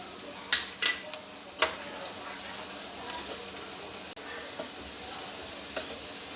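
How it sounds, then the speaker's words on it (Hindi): Onions and garlic frying in a pan, a soft steady sizzle with a few sharp stirring clinks early on, fairly quiet and close. "मैं इसमें लहसुन डाल दूंगी और साथ ही इसको भी फ्राई कर लूँगी"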